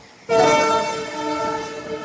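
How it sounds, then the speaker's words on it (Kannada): A loud train horn blares suddenly and holds steady, sounding close by and alone. "ಟ್ರೈನ್ ಹೊಂಟತ್ ನೋಡ್ರಿ"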